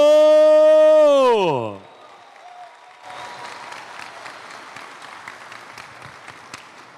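An audience at a business event in Petrolina applauds to welcome speaker Ana Carolina Porto, steady moderate clapping that begins after a loud descending musical sweep fades out.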